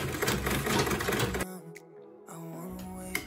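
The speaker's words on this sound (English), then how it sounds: "I'll put my needle down, raise my foot up, and sew this last part" A domestic sewing machine stitches the final seam of a quilted tote bag, a dense rapid whirring run that stops abruptly midway, leaving a quieter hum with faint clicks before the motor picks up again.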